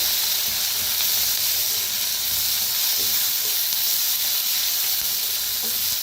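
Onion and dal with turmeric and red chili powder roast in a pan, giving a loud, steady hissing sizzle close by that continues unbroken throughout.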